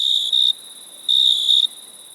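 Cricket chirping sound effect: a bright, shrill insect trill in two pulsed bursts separated by a quieter sustained tone, loud and close on a clean background.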